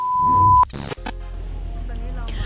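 A camera at a cafe in Chiang Mai gives a steady electronic beep followed by two quick mechanical shutter clicks, heard over a low background hum.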